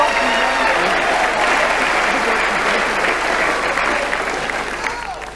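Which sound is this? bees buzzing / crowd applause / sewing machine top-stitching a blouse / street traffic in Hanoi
crowd applause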